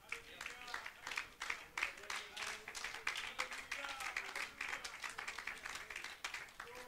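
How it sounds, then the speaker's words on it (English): A church congregation claps in praise during a service, faint but steady applause with voices mixed in throughout. "let's give him a hand clap of praise"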